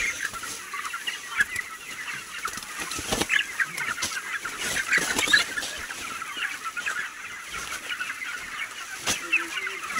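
A crowd of chickens on a poultry farm at night, soft continuous clucking and chattering with occasional sharper squawks and wing rustles, moderately close and steady, no talking.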